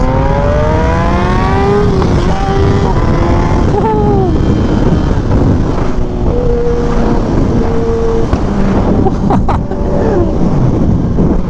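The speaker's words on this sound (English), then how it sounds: "The pops and crackles on this bike." A Kawasaki Ninja ZX-10R sport motorcycle engine revs and idles up close, its pitch rising and falling, with sharp pops and crackles breaking through near the end.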